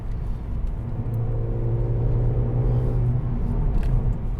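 A Mercedes-AMG A45 hatchback pulls under power, its engine a steady low rumble and whir that builds slightly, heard from inside the car with no voices.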